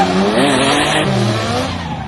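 A car fitted with steel steering lock adapters drifts at massive angle, its tires squealing loudly and continuously over a revving engine, with pitch shifting harmonics sweeping across two seconds, close and with no voices.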